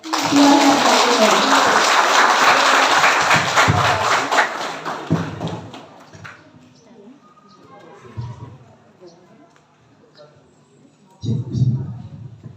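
Audience applause at a school book roadshow event, loud and sustained for several seconds, then fading into scattered claps, thumps and low murmurs, with a brief swell near the end.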